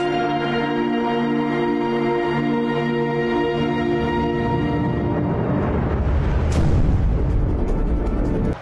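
A Russian Pantsir air defense system is destroyed. A loud, continuous roar with heavy low rumble swells after a few seconds into a broad blast, with a sharp burst near the end. No one speaks.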